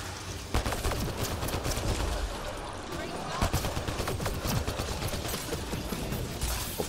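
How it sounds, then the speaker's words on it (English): Assault rifle fire in the sci-fi shooter Mass Effect: Andromeda: dense, sustained bursts of rapid shots crackling nonstop over a busy combat mix, with sharper cracks standing out now and then. "So let's go back to the assault rifle here."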